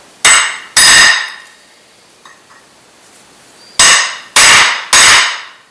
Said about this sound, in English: Use a hammer and a punch to mark the holes